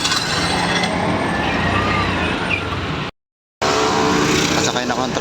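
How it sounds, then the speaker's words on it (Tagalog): A motorized tricycle runs along a street in Commonwealth, its engine droning loud and close with road noise and a brief dropout partway through. "Ito po yung nagpasadang tricycle dito."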